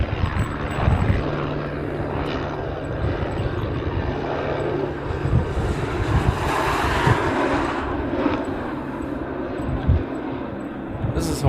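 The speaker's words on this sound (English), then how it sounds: "This is Hawaiian Flight 75 coming in from Vegas." A Hawaiian Airlines flight from Las Vegas arrives at Honolulu, its engine rumble rising and falling beneath wind buffeting on the microphone, with intermittent voices talking over it.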